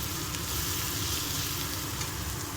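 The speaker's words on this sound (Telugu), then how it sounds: "కొద్దిగా లైట్గా ఫ్రై అయ్యింది ఆనియన్, పచ్చిమిర్చి." Onion and green chillies frying in a pan for a ridge gourd and potato fry, a dense, loud, continuous sizzle crackling without pause and no voices over it.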